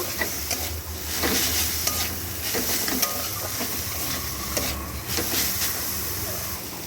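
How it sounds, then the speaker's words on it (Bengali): Fried prawns being stirred into a radish-leaf dish in a pan: a continuous sizzle and hiss of frying under repeated soft scrapes of the spatula, with a faint voice now and then. "আর এর মধ্যে আগে থেকে ভেজে রাখা চিংড়ি মাছগুলোকেও দিয়ে দেবো দিয়ে ভালো করে নাড়াচাড়া করে মিশিয়ে নেব"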